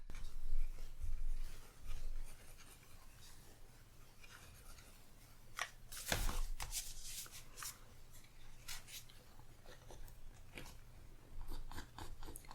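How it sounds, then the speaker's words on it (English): A pencil sketching on a canvas in a quiet room gives close, soft scratchy strokes in short irregular bursts with faint rubbing between them, alone without talk. "So that gives me just some guidelines for where to start sketching"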